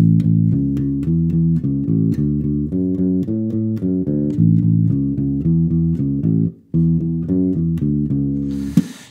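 A bass guitar plays a bouncy, steady ska riff of repeated plucked notes at a slow, even pace, with one brief gap near the end.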